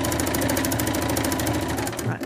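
A sewing machine stitches patchwork for a cushion cover in a fast, steady mechanical rattle of rapid needle strokes, close and loud, slowing and stopping at the end.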